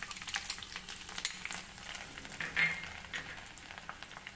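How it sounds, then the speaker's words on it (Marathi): Mustard seeds, cumin and finely chopped garlic fry in hot oil for Nagpur-style gola bhat, giving a steady close crackling sizzle with small pops throughout and no voices. "तेल गरम झालं की त्यामध्ये मोहरी घालूया, जिरे, 4 ते 5 लसूण पाकळ्या बारीक चिरून घालूया"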